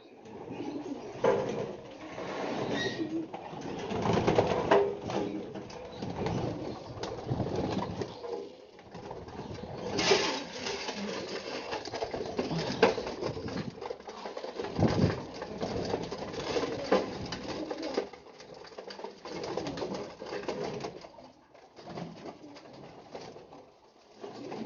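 Breeder pigeons in a loft coo repeatedly, soft low rolling calls overlapping at close range amid faint rustling and pattering, with no talking.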